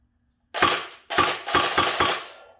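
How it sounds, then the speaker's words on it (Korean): An ARES SL9T airsoft sniper rifle fires five close, sharp cracks, two spaced single shots followed by three in quicker succession, each decaying briefly, with silence before the first. "일단은 이제 사격과 사격 속도, 뭐 연사 속도 등을 한번 보도록 하겠습니다"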